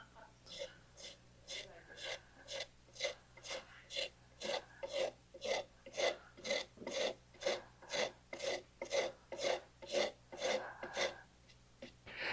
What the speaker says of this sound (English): the toughest part of this smoothing is to make that transition without leaving a bandsaw mark